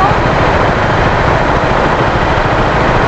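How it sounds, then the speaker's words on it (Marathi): Heavy road traffic in Chembur, Mumbai, a dense, constant roar of engines heard up close from a scooter, loud and unbroken with no speech. "अरे बापरे एवढी ट्रॅफिक"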